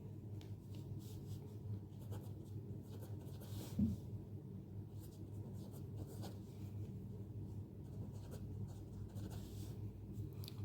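A pen scratches steadily across notebook paper, faint and close, with a soft continuous rustle and a small bump partway through.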